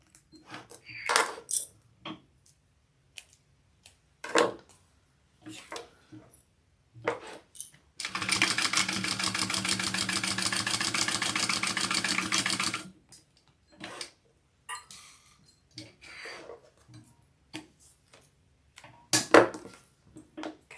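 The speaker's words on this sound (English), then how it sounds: "you just want to sew down the two sides with these right sides together." A sewing machine runs continuously for about five seconds, stitching the side seams of a fabric sling with right sides together, a steady rapid whirring burst set between scattered quieter handling clicks and taps.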